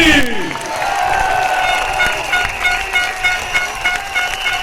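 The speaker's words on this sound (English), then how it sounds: "Round of applause for Dr. Maliki." A large outdoor crowd at a political rally in a stadium applauds and cheers, a broad wash of clapping and voices with a piercing whistle-like tone at the start, sustained at steady strength.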